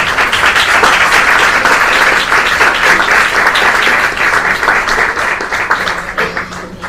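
A lecture audience breaks into loud, sustained applause, dense clapping filling the room for several seconds before thinning slightly toward the end.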